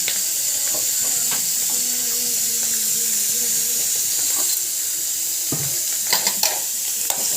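Curry leaves and mustard seeds crackle and sizzle in hot oil in a steady close-up frying hiss, with a few sharper pops near the end and some stirring.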